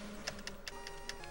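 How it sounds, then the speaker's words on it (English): A computer keyboard is tapped in faint, irregular clicks, about half a dozen soft keystrokes over low background noise. "If you hear the tapping on my keyboard, I apologize"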